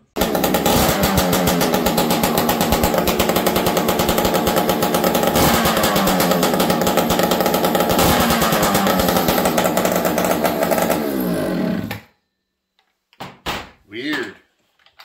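Husqvarna 480CD chainsaw with an aftermarket pipe, running loud and harsh right by the microphone for about twelve seconds before shutting off, followed by a few brief knocks and a voice.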